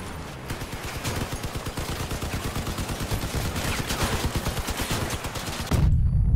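Rapid automatic gunfire from a vehicle weapon in the combat game Crossout rattles in a fast, even burst lasting several seconds. It stops abruptly and gives way to a heavy low thump.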